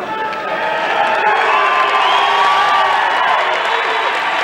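A large crowd at a bodybuilding contest cheers and whoops in a loud, continuous roar that holds steady throughout, with no single voice standing out.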